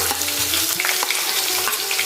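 Thin-sliced onion fries in hot oil in a large kadai after mustard seeds and asafoetida. The sizzle is loud, dense and close, with stirring scrapes throughout and no voices.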